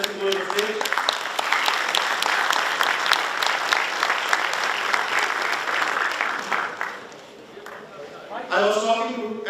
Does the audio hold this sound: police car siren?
no